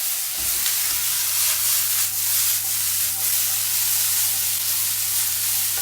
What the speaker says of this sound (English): I better just toss the veg around a little bit if I can.